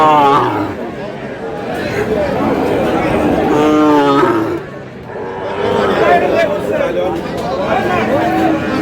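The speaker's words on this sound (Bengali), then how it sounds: "শাহিওয়ালের ষাঁড়।" Sahiwal bull calves moo at a busy cattle market, several drawn-out calls rising over a loud murmur of crowd chatter and nearby talking.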